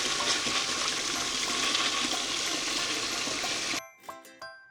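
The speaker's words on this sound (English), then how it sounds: "And now it's time to flush the potty." A toy-scene potty flushes with a loud, steady rush of water for several seconds, then cuts off into a few faint drips and trickles.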